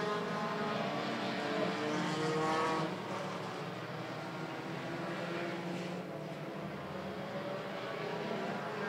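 Race cars roar around the track during a King of the Hills event at Hudson, with car number 03 running close behind another car; a dense, steady engine drone, loud and continuous, with a slight swell early on and no talk.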